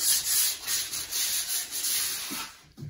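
Fine sandpaper rubs over stained handmade log furniture in steady back-and-forth strokes, a close, continuous gritty scraping that pauses briefly near the end.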